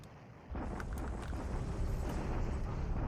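Rumbling bombardment blasts in the War in the Pacific strategy game, a sudden heavy low roar kicking in after a quieter start and holding as a dense, continuous barrage of thuds.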